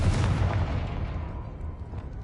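A Confringo blast spell explodes in the Hogwarts Legacy video game: a loud, deep boom that rumbles out and fades over about two seconds, with no talking over it.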